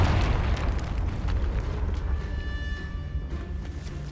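Confringo fire-blast spell in Hogwarts Legacy goes off as a deep, rumbling explosion that booms loudly at first, then settles into a lingering crackling decay.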